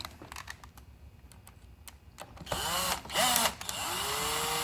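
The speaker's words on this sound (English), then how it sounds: "go ahead and drill your hole there, and it's ready to go" A power drill bores a hole beside a window while inside-mount shades are installed, starting after a few light clicks and running loud and steady with a brief rise in pitch, alone without talk.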